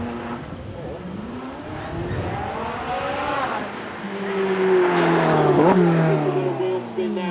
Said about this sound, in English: Wheel spin now, but then traction control kicking in.